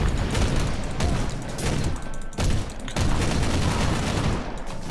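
Rapid automatic bolt gun fire in Warhammer 40,000: Inquisitor - Martyr, dense booming volleys of shots with brief gaps, loud and close throughout without speech.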